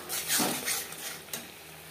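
Ground coriander and cumin fry in a pan for a fish curry with potato and green banana, with a soft sizzle under a few scraping stirring strokes.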